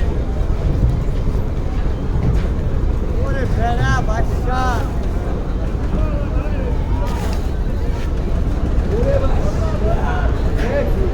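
A Parabat 11 passenger launch moves along a river, its steady engine drone and rushing water forming a loud, continuous roar buffeted by wind, with a person talking over it.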